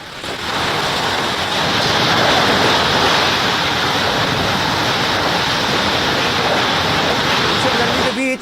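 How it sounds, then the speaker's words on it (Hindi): Heavy rain pours down during a storm in Bengal, a dense, steady roar of falling water and gusting wind that stays loud and unbroken for several seconds before cutting off. "भीषण गर्मी के बीच देश के कई राज्यों में झमाझम बारिश हो गई और आंधी और तूफान के साथ आसमान से जमकर पानी बरसा।"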